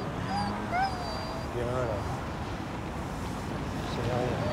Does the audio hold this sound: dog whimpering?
yes